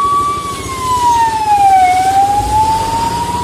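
A fire engine siren arriving during a cyclone in Chalakudy, a loud wailing tone sliding down and back up over engine rumble, close and continuous.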